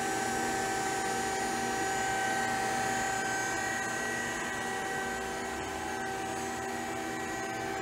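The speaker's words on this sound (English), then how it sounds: "It's a Jorgensen conveyor." A Jorgensen chip conveyor runs on a machine tool, giving a steady mechanical hum and whine with faint tonal lines, continuous and unchanging throughout.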